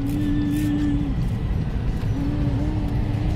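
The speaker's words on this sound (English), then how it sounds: "There's Daddy driving." A car engine hums steadily from inside the moving vehicle as it pulls away, a low continuous drone with a voice and a voice heard over it.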